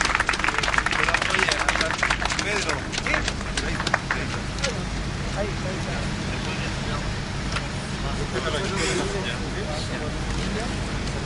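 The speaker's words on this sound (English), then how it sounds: "Applause." Applause from a crowd at the Chilean mine rescue as a miner steps out to the surface, dense continuous clapping that gradually thins, mixed with outdoor noise and voices.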